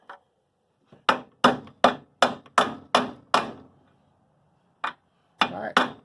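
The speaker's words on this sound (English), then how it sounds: "Grab the 10-pound sledgehammer." A 10-pound sledgehammer drives a socket into a Tecumseh engine on a Toro mower, giving seven sharp metallic strikes in a quick, even rhythm. After a pause, three more blows land.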